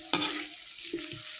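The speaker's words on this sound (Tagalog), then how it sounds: "Ilunod ang atsal mga amigo para maprito." Annatto seeds dropped into hot oil, a sudden burst of frying sizzle that settles into a steady hiss, with a couple of soft stirring clatters near the end.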